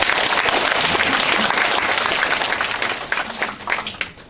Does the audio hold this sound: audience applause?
yes